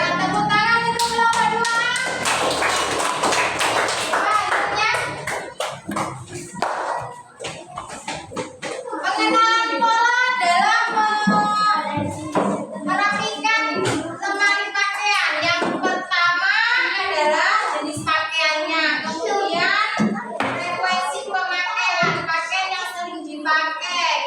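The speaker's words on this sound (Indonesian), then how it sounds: "Ya, tepuk tangan untuk kelompok 2." A classroom group claps for a presenting team, a dense burst of applause that fades after a few seconds, followed by people talking.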